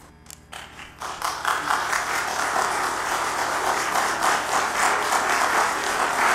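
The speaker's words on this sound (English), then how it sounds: "Again, we ask to hold the applause." After a brief quiet moment, audience applause breaks out at a borough council meeting in Madison, New Jersey, rising quickly and holding as a steady, fairly loud round of clapping.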